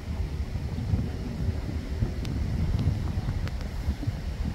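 Low, continuous wind buffeting the microphone outdoors, with a few faint distant clicks.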